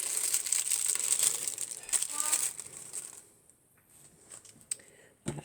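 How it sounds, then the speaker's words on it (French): Small scissors snipping through soft tissue paper, a dense papery crinkling and rustling close up for about three seconds, then quieter with a few faint crisp ticks. "couper le papier de soie."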